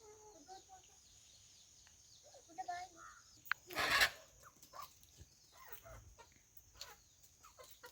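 Domestic chickens clucking softly at a home, scratching and digging in soil for earthworms, with short scattered clucks and a brief louder rustle or flap midway, fairly quiet outdoors.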